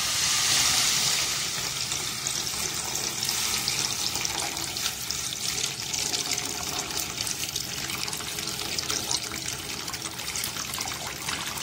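Water pours into a cooking pot in the kitchen while beef tongue curry is being prepared, a steady close splashing trickle that fades slightly after the first second and continues evenly, with no voices.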